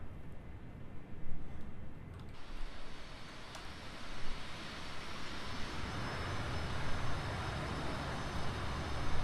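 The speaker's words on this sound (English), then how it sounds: "We might as well just wait for that Hornet ahead of us to taxi onto the runway" An F/A-18 Hornet jet taxiing onto a runway in the DCS flight simulator gives a steady, fairly loud broadband engine roar that holds evenly throughout with no talking.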